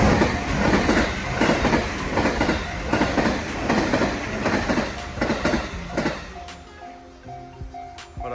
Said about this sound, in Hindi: ये देखें, सामने से ट्रेन आनी शुरू हो गई है।